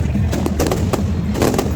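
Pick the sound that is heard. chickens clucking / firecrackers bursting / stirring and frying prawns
firecrackers bursting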